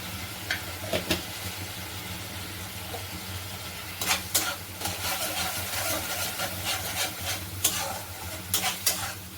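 Turmeric goes into a sizzling pan for a Bengali rui fish curry, with a steady close frying hiss and several sharp stirring scrapes and clacks of a utensil against the pan, with no talk.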